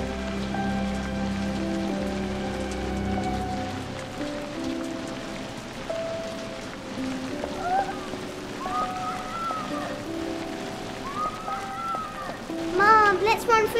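Steady rain falls on a surface, a constant soft hiss with faint scattered drops, under a child's and an adult's voices talking through much of it.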